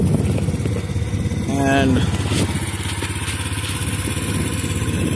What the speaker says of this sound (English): I'm at in Palm Springs riding this Honda motor.